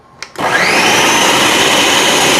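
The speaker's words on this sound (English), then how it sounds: "I'm hitting the puree button. I'm hoping this food processor works okay." A food processor whirs on abruptly after a short click, pureeing, and runs loud and steady, a constant high motor roar.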